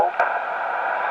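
A pileup of many amateur radio stations calling at once into a Parks on the Air activation at Cowichan River Provincial Park, heard as a dense, garbled wash of overlapping voices and static through a radio receiver, steady and continuous.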